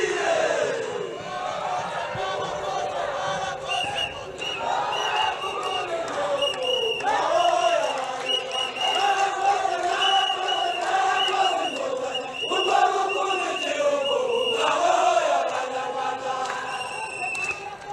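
A large crowd at an FPR Inkotanyi campaign rally in Musanze roars, cheering and chanting in a sustained, overlapping wash of voices that swells and dips without pause.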